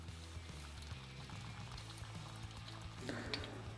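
A pot of water boils with pasta in it, bubbling and simmering steadily over a low background hum, close and moderately quiet, with no talking.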